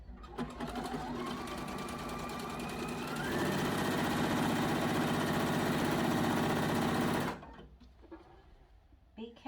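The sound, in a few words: sewing machine stitching a quilted peg bag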